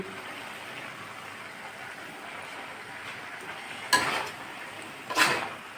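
Fried potato and eggplant tipped into chickpea greens cooking in a pan, heard as a faint steady sizzle with two short scraping stirs near the end.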